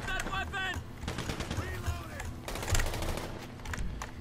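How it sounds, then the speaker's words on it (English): Gunfire during a GTA 5 Online casino mission, a steady spread of rattling shots and bursts under game sound and speech-like voices throughout, with a louder cluster near the end. "I'm getting shot from someplace."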